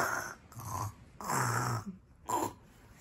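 A person imitates snoring with a voice, making three or four drawn-out, rasping snorts separated by short pauses, close and fairly quiet.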